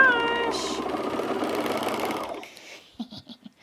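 Sewing machine running along a Henley shirt seam, a loud continuous motor whir for over two seconds that then stops, followed by a few soft clicks and taps.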